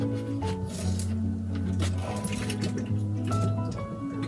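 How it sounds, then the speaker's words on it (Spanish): Water runs into a plastic water-rocket bottle being filled, giving a close trickling, dripping flow with a faintly rising tone over a few seconds. "Aquí con aire no ha funcionado muy bien, vamos a hacerlo con agua. Lo vamos a rellenar."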